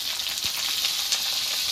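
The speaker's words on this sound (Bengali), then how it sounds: "এবার পটলগুলো ভেজে নেব।" Pointed gourd (potol) pieces frying in hot oil, a steady dense sizzle that holds evenly throughout at close range, with one brief low knock near the start and no voices.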